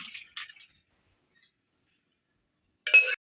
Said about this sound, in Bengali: মাংসটা একটা গামলার মধ্যে ঢেলে নিচ্ছি।